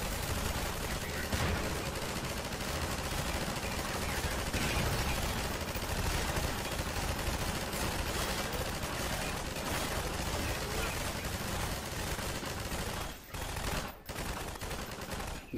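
Sustained automatic gunfire from an unlimited-ammo weapon in Half-Life 2, a dense continuous burst of rapid shots running loud almost the whole time with brief gaps near the end.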